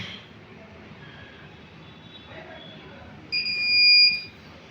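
A Fujikura 33S fusion splicing machine powering on gives a single clear electronic beep, a steady tone lasting about a second, after a quiet stretch with faint background noise.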